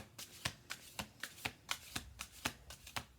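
Cards are shuffled repeatedly, a quick run of crisp riffling bursts in a steady rhythm, close and fairly quiet.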